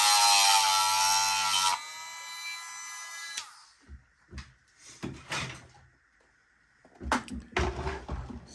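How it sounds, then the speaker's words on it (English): A Dremel rotary tool grinds a section off a plastic Bruder Liebherr model, giving a high steady whine for a few seconds, followed by scattered clicks and knocks from handling the parts. "So what I basically did was to use my Dremel, grind a bit of that section off."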